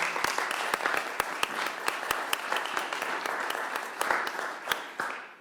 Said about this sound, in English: How about a round of applause for James?